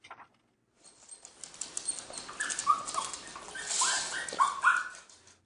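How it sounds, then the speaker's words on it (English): Bella the dog lets out a few high, squeaky whimpers aimed at a cat, thin cries coming in short bursts over a faint rustling background, fairly close. "Bella starts to make a few squeaky noises and pulls a little bit"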